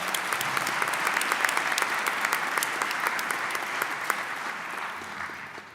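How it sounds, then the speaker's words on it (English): A large audience at a 2022 faculty honors convocation gives a long round of applause, dense, crisp clapping that holds steady and then slowly fades, with no talk over it. "let's start by just giving yourselves a great round of applause"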